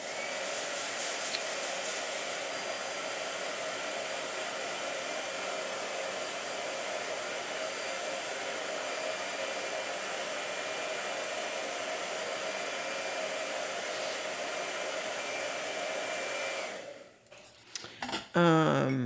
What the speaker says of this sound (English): Blow dryer. More blow dryer.